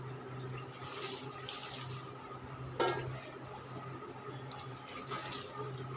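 Water poured onto garden plants in hot summer weather, a steady rushing trickle with a brief louder splash partway through, continuous and fairly close with no speech.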